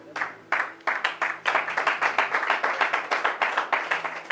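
An audience at a Bible teaching gathering applauds in a brisk, steady round of many hands clapping close by, the claps falling into a fairly regular rhythm.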